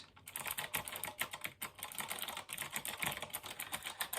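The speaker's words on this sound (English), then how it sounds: "I absolutely love mechanical keyboards." Rapid typing on a Fineday mechanical keyboard, brisk clacking keystrokes in quick, uneven bursts, close and clear with no talk over it.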